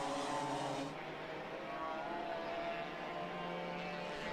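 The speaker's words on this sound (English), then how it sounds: "Now I spy with my little ear a noisy exhaust." A race car with a noisy exhaust drones past during a qualifying heat, a steady rough engine roar with a brighter rasp at the start, heard at a distance and continuous throughout.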